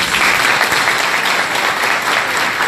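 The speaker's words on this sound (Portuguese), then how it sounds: "uma salva de palmas para eles" A conference audience claps steadily and loudly throughout, with no voices over the applause.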